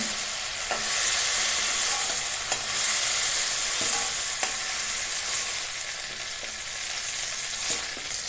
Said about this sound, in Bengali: চিংড়িগুলো ভাজা হয়ে গেছে বেশি কড়া করে ভাজবো না হালকাই ভেজে নেব